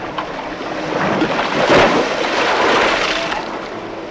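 Soft rushing wash of water waves for the Dnipro river in a children's puppet show, a steady near whooshing swell that rises slightly in the middle and holds without speech.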